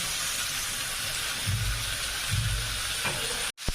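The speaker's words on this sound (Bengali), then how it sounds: "চিকেন দিয়ে আমি এটাকে নাড়তে থাকবো" Chicken fries in masala while being stirred in a pan, a steady loud sizzle with a few soft scraping strokes beneath it and an abrupt cut near the end.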